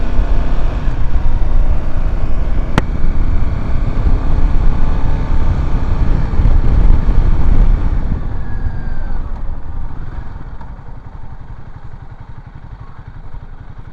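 A Royal Enfield Himalayan 450 engine runs close to the microphone with a loud, steady mechanical rumble and some wind buffeting, then gradually quietens over the last few seconds; a sharp click cuts in early on.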